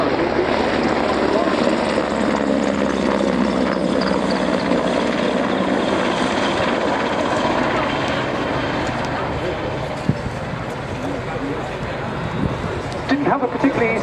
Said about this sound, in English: George, and this Merlin HM2, as it's designated, one of the upgraded aircraft